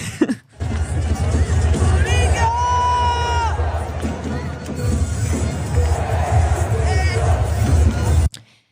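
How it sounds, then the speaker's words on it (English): A crowd of fans at a FIFA Fan Festival in Toronto roars and screams continuously, with high whoops and cheers rising above the dense hubbub throughout. "The fans were screaming like it's the fan chant or something."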